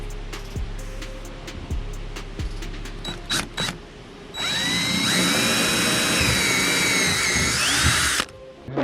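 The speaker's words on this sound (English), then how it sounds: "Go ahead and drill." Power drill boring mounting holes for a Rhodan 24V 80 lb thrust trolling motor on a boat, a few short bursts first, then one loud steady whine running several seconds close up before stopping.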